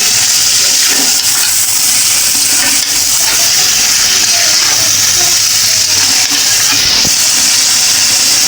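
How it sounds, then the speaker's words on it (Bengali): Goat mutton being fried in spice paste in a pan, giving a steady, close sizzling hiss with a few brief spatters throughout and no talking. "এই মশলাতে কিন্তু খাসির মাংসটা খুবই ভালো করে কষিয়ে নিতে হবে।"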